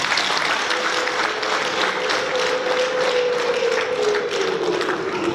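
Wedding guests in Musanze applaud in a dense, sustained burst of clapping that holds steady throughout, with a faint steady tone running underneath.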